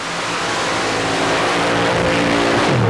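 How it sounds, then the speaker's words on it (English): A paddle-tire mud racing truck with a Rodec 453 cubic inch engine making a run at a 1990 mud race in Bayou George, Florida, a loud, sustained, roaring engine with its pitch climbing toward the end. "Flirtin with Disaster with the Rodec 453 cubic inch engine."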